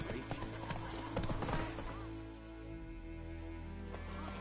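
Roach, Geralt's horse in The Witcher 3, gallops with a quick, steady clip-clop of hooves, close and fairly loud at first before the hoofbeats ease into a softer, even rhythm.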